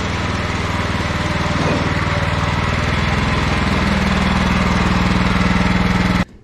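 A Kohler Command Pro 13 engine on a lawn mower runs steadily at a loud, even drone for several seconds, warming up outdoors, then cuts off abruptly at the end.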